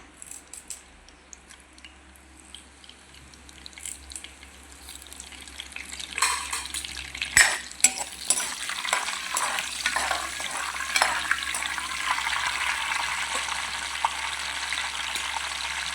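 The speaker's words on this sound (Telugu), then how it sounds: "పోపు దినుసులు వేగాయి కదా ఇప్పుడు కొంచెం కరివేపాకు వేద్దాం" Curry leaves and tempering spices hit hot oil, starting as a quiet crackle and then bursting into loud, spluttering sizzles and pops that settle into a dense, steady fry.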